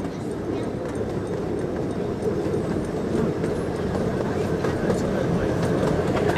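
A scenic safari-park railway train rumbles steadily along the rails with a continuous low clatter, moderately loud and unbroken throughout.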